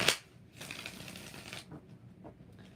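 Deck of tarot cards being shuffled close by: a sharp snap followed by a rapid riffling rush lasting about a second, then softer taps and handling sounds.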